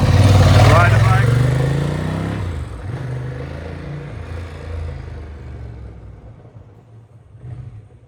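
A 1993 Ducati 888 Strada motorcycle engine revs up close and loud, then fades and rumbles more distantly as the bike moves off, with voices faintly present.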